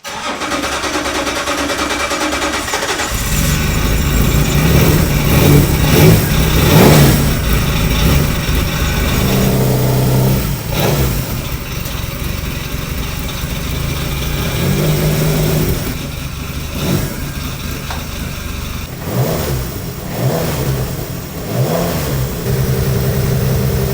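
An MG Metro 6R4 Group B rally car from the 1980s fires up, then its engine revs repeatedly in loud, close bursts and drops back to a rough idle between blips, with no voices.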